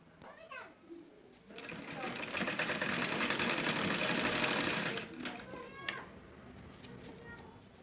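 A sewing machine stitches a blouse sleeve at the shoulder in a fast, loud burst of several seconds, with quieter handling before and after.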